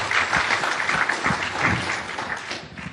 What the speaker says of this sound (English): How about we give these guys another round of applause?